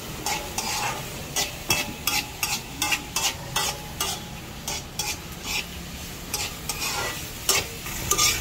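Dried fish (buwad) cooks in a pan with a background sizzle, broken by a quick series of scraping and stirring strokes against the pan, near and fairly loud, with no speech.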